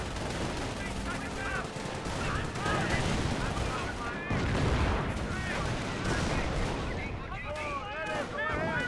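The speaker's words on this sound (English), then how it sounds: "Good suppression there from the MG42." MG42 machine gun suppressive fire in the video game Company of Heroes, dense crackling bursts of gunfire layered with other battle sounds and a talking voice throughout.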